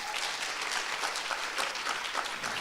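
Warm applause from a conference audience welcoming a speaker at a national advocacy event, dense and steady clapping filling the room throughout.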